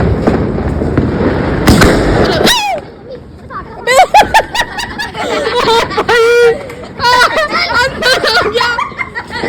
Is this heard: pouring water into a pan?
no